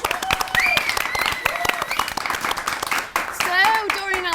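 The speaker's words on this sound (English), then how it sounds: "Doreen and Alec, everybody, please, round of applause." An audience gives a round of applause to a pair of grandparents at a live show, many hands clapping briskly and close while a host speaks over it and voices react and laugh, the clapping briefly dipping before swelling again.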